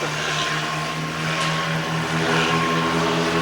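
Steady, loud droning of a homebuilt KR aircraft's engine and propeller in flight, heard from inside the cockpit as a continuous even roar.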